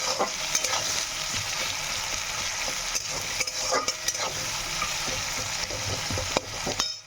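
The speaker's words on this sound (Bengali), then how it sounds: "পেঁয়াজটা এখন ভালো করে ভাজবো যতক্ষণ না বাদামি কালার আসে" Onions frying in oil until brown for an egg curry, giving a continuous dense sizzle with occasional spoon scrapes and stirs against the pan.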